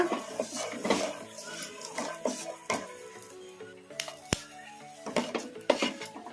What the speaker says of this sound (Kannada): ಈ ಥರ ಕಲಸ್ಕೊಂತ ಫ್ರೈ ಮಾಡ್ಕೋಬೇಕು ಮೀಡಿಯಮ್ ಫ್ಲೇಮಲ್ಲಿ ಫ್ರೈ ಮಾಡ್ಕೋಬೇಕು